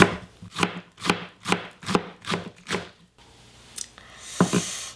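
Kimchi being chopped finely with a knife on a board: seven rhythmic, evenly spaced thuds, then a pause and a few more cuts, close and clear, with no talking.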